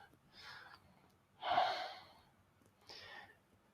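Three soft, even breaths through an ankle stretch, spaced about a second and a half apart with the middle one the fullest, faint and close with no talking.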